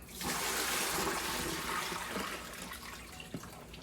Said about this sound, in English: and dump out the water